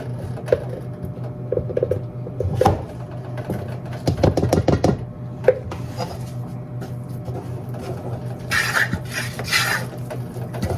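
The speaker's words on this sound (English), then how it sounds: "then I'm gonna whisk it in" Flour being whisked into Texas sheet cake batter in a bowl, with scattered clinks and taps of the whisk against the bowl, a dense rattling burst midway and brisk scraping strokes near the end, all close and moderately loud.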